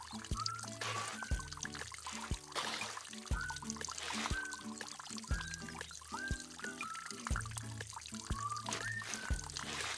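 Water pours and splashes steadily in a children's cartoon for the whole stretch, with a trickling, bubbly texture and repeated rising tones layered over it.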